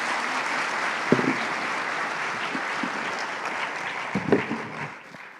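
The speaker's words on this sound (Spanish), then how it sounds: "Quisiera pedirle finalmente un aplauso a ustedes para los panelistas." An audience at a health economics panel applauds the panelists, a dense, steady wash of clapping that holds evenly, with a few louder nearby claps, before tapering off at the end.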